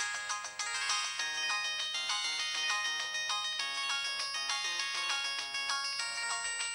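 A charging mobile phone rings with a bright, melodic ringtone that repeats its short phrase over and over, steady and close, with no voices.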